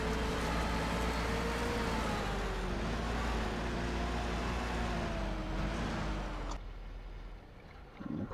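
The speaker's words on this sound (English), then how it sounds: "You are a real loud, noisy tractor." Loud, noisy tractor engine in Farming Simulator 2015 drones steadily with a low rumble and shifting pitch, then cuts off abruptly near the end, leaving faint background.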